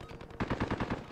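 SKS rifle fire in Warzone, a short run of about six quick, evenly spaced shots after a brief muffled lead-in, moderately loud and close.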